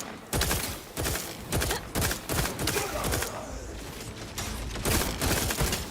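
Turret gunfire in The Outer Worlds 2 sci-fi shooter: loud, close bursts of rapid automatic fire repeating over several seconds with brief gaps between volleys, no voices over it.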